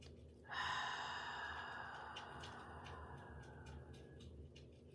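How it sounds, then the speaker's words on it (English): A quick, sharp inhale during a calming breathing exercise, close and fairly loud, with breathy hiss tapering off over a few seconds. "quick inhale."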